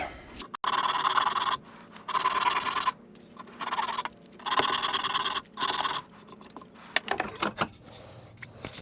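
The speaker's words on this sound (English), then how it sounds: "Just slightly sand it, getting rid of any of those marks." Hand sanding of a small wooden project with sandpaper, several rough raspy scratching strokes in bursts with short pauses between, close and fairly quiet.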